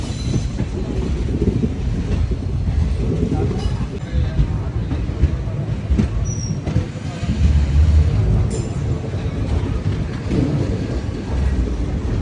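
A train runs on the rails toward Rameshwaram in a steady, loud, rumbling roar with wheel noise and occasional clicks, heard from on board and continuous for about twelve seconds.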